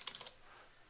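A short burst of keystrokes on a computer keyboard, a few quick light taps clustered at the start and then fading into quiet room tone, fairly faint and close.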